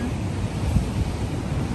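Strong winter sea waves surging on an Australian coast, a steady heavy roar of surf mixed with wind buffeting the microphone, with one louder wave crash near the middle.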